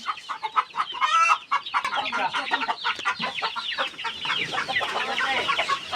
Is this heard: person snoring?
no